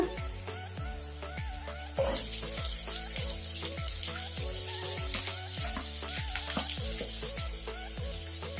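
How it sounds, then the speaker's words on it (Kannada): Finely chopped medium onions fry in oil for spicy masala bread toast, a steady close sizzle with rhythmic clinks and scrapes of stirring that grows louder partway through, with no talk. "ಈಗ ಉಳ್ಳಾಗಡ್ಡಿ ಏನೋ ಜಾಸ್ತಿ ಫ್ರೈ ಆಗೋದೇನು ಬೇಡ, ಒಂದು 2 ನಿಮಿಷ ಎಣ್ಣೆಗೆ ಸುಮ್ಮನೆ ಹಿಂಗೆ ಫ್ರೈ ಮಾಡ್ಕೊಂಡ್ರೆ"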